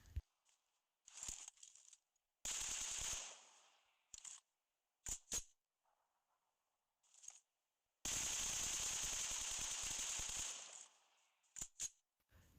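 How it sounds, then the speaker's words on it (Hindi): Bursts of automatic gunfire in the PUBG Mobile video game, two long sustained volleys and several short clipped shots, crisp and close with quiet gaps between. "ये देखिए मुझे फायर यहाँ पे आता है।"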